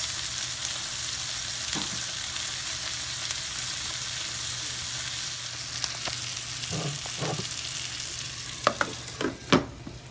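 Continuous frying sizzle from two chicken breasts cooking in a tablespoon of butter in a pan, with a few sharp clinks and scrapes near the end.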